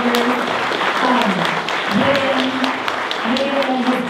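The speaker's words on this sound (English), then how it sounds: "I want to give a big round of applause to Eve Productions" A crowd at a celebration for Billy Kidd breaks into loud, continuous applause for a production team, with voices and cheers mixed into the steady clapping.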